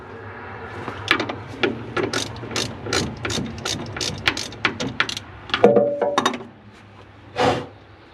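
A half-inch drive ratchet clicks in quick bursts of sharp, close ratcheting strokes, pausing briefly between turns.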